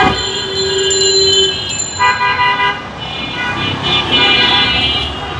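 A black Toyota Allion with a VVT-i engine runs, giving a steady, fairly loud broadband rumble that continues for the whole clip, with brief tonal toots and hums over it.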